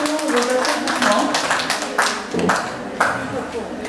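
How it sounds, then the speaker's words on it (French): Clapping from a small gathering honouring an absent prize winner, uneven and fairly close, with distinct individual claps and talk mixed in. "Alors, elle reçoit tous les applaudissements."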